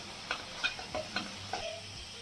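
Moong dal being stirred in a pot after sambar powder goes in: several distinct spoon scrapes and clinks at an uneven pace, close and fairly quiet over a soft background sizzle.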